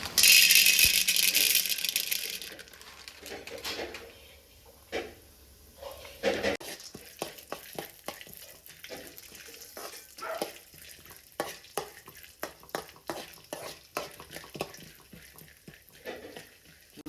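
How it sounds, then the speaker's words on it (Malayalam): Roasted gram (pottukadala) is fried and stirred in a pan, first with a brief loud sizzle, then with repeated rattling scrapes and clinks of the lentils being moved around, close and intermittent. "ഇനി നമുക്ക് കുറച്ച് പൊട്ടുകടല ഒന്ന് ഫ്രൈ ചെയ്തെടുക്കണം"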